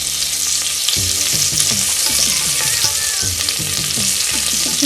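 Curry leaves dropped into hot oil for a sardine curry cooked cooker style, crackling and sizzling loudly up close, with a steady hiss and repeated scraping stirs throughout.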